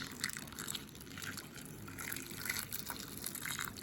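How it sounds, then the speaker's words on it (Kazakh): Boiling water pours and gushes softly over potatoes in a container, a continuous faint splashing stream with small drips. "үстіне қайнаған су кипяток қоямыз"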